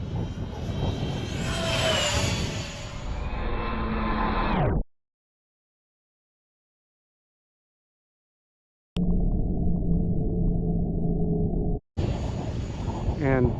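An RC airplane flown on a windy, gusty day makes a whining, shifting motor drone that rises and falls in pitch, then cuts out abruptly and comes back as a steadier hum.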